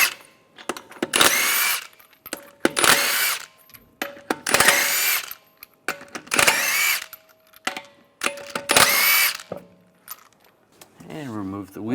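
Impact tool with a 22mm socket spinning lug nuts off a Buick Enclave front wheel, five or six loud whirring bursts separated by pauses, with faint clinks of nuts between them.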